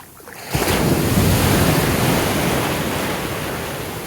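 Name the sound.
ocean waves breaking on beach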